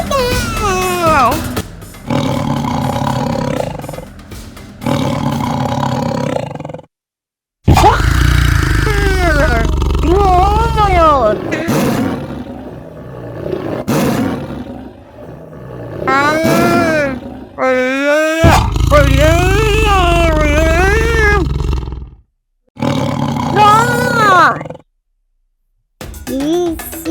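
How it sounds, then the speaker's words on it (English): Loud tiger roars and growling snarls in a kids' wild-animal setting, repeated in long bursts separated by short silences, with wavering pitch and what sound like children's voices in places. "tiger!"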